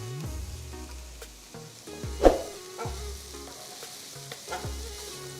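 Scrambled eggs tossed into frying rice with sliced spring onions in a hot pan, loud close sizzling broken by repeated stirring scrapes and sharp spatula knocks, no voices.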